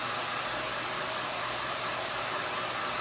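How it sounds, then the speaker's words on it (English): An Ion Magnesium Pro blow dryer runs continuously during short hair styling, a steady loud rushing whoosh of air with no change in pitch or level. "This is the new Ion blow dryer that's going to be in. It's the Magnesium Pro."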